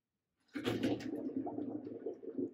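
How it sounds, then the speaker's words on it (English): A chunk of dry ice dropped into water in a bubble creator sets off a sudden burst of gurgling and bubbling after a brief silence, then settles into continuous, fairly quiet churning. "That's all of the gas that's coming off of that chunk of dry ice."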